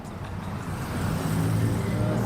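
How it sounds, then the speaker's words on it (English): Road traffic rumbles steadily, a low, continuous wash of passing car and engine noise that swells slightly, with no clear speech on top. "I know there's a lot of fucking noise in traffic right now"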